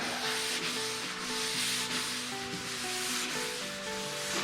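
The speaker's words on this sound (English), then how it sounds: "Alright, finally got it all sanded out. Time for wet sand." Wet sanding with 400 grit sandpaper after a 320 dry pass, a steady close rubbing rasp running continuously over a few seconds with no talk, a faint musical tone underneath.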